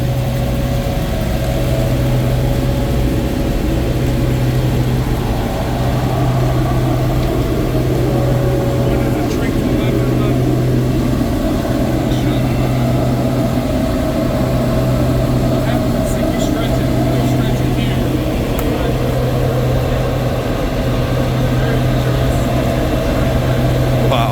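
A carpet mill machine in Dalton, Georgia runs steadily as it trims carpet down to 12 feet wide, producing a loud continuous mechanical drone with a low hum throughout.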